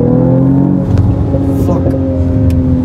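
A Mercedes-Benz GLE 43 AMG coupe SUV pulls away quickly, its engine note loud, steady and close, holding a droning rising tone across the whole stretch, with a few faint sounds from inside the cabin.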